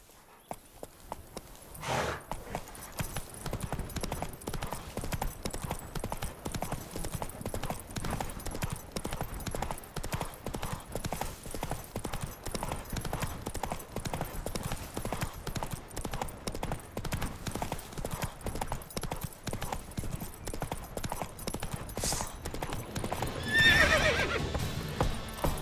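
Horse hooves clip-clop steadily in a continuous galloping rhythm through The Witcher 3 game, close and loud, with a whinny rising near the end.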